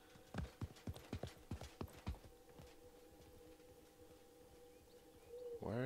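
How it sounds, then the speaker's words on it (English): Enemy footsteps in the battle royale game Realm Royale: a quick run of about eight crisp, hoof-like steps in the first two seconds, then only a quiet steady hum with no talking. "I can hear an enemy's footsteps."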